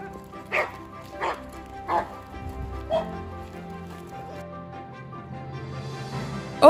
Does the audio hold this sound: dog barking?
yes